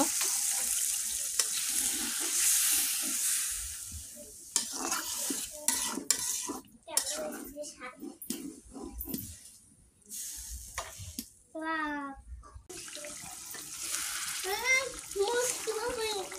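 Pangas fish curry with chickpeas, peanuts and coriander leaves is stirred and fried in a pan with a little water and green chillies. A spoon scrapes repeatedly against the pan over a bubbling sizzle, and someone talks intermittently over the cooking.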